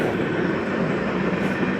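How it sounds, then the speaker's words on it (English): A loud train passing close to a campsite by the railroad tracks, a steady dense rumble and roar that holds throughout without a break. "That train was so loud."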